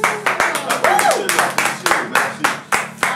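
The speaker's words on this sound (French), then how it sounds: "Applaudissez" Hands clap in a quick, uneven rhythm of about a dozen sharp claps, with a voice heard briefly under the clapping.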